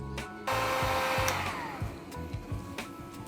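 A heat gun switches on and runs steadily with a broad hot-air roar during a screen printing job, a bright whine fading as it settles, with occasional low thumps beneath.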